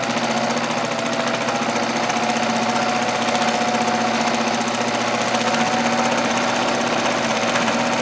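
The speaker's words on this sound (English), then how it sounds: "So let's do a little sewing and see if we have" A Necchi Supernova Julia sewing machine running steadily while sewing a pattern stitch, a loud, close, continuous rapid mechanical clatter with no pauses and no voices.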